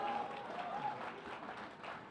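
At a young poets' mushaira in a literary festival, the audience applauds for poet Charagh Sharma, a soft, distant wash of continuous clapping with a crowd murmur blended in.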